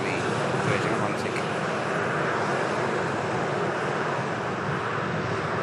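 A Boeing Dreamliner airliner taking off along the full length of the runway, its jet engines a continuous broad roar from start to finish, with a voice faintly under it.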